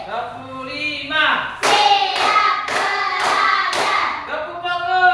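Children in a classroom clap hands in a rhythm game, a run of five sharp, even claps close by, framed by the group's chanting before and after.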